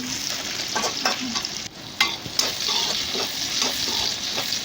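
Onion and capsicum pieces frying in a pan for pasta masala, a steady close sizzle with scattered stirring scrapes and clicks throughout, no talk.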